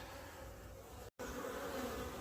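Steady, dense buzzing of many honeybees close by at a hive in winter, a continuous hum with a brief dropout in the middle, no voices.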